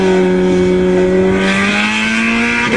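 A front-drive Toyota and a rear-drive 2009 Dodge Challenger race, their engines revving hard and climbing in pitch together, loud and close with a steady droning roar throughout.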